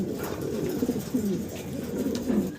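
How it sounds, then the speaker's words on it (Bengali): A pair of large white fancy pigeons coo steadily and close by, with repeated low rolling calls that run throughout, with no talk. "সাদা দবদবা বিশাল বিগ সাইজের ভিতরে আমরা এক জোড়া শৌখিন কবুতর দেখাচ্ছি আপনাদেরকে"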